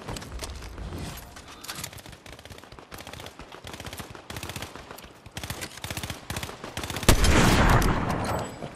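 Rapid bursts of SMG fire in a video game, dense repeated shots rattling almost continuously for several seconds, with a louder, heavier blast near the end.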